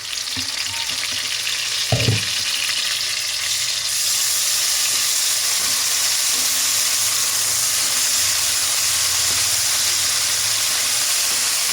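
Shrimp paste (bagoong) frying in a pan in a simple rural kitchen, a steady close sizzle and hiss throughout, with a brief clatter of stirring near the start.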